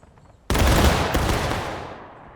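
A musket volley in the Civil War game War of Rights, Harper's Ferry setting: one sudden, loud massed blast of many muskets firing together, then a long rolling decay.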